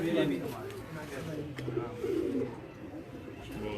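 Pigeons coo softly in a low, rolling murmur that repeats across the stretch, mixed with background voices and faint ambient noise.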